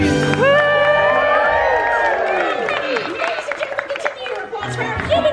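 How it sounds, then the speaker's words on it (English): A theater audience at a Magic Kingdom stage show claps, cheers and whoops in a loud, continuous wave, with excited voices and shouting children mixed through the crowd noise. "Ladies and gentlemen, continue your applause for our human monsters!"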